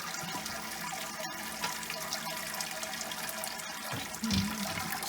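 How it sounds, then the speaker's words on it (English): Water draining and splashing out of a homebrew beer mash, a steady close-up rush of liquid with a brief heavier slosh near the end, continuous and alone. "let it drain out and hopefully I'll splash it everywhere."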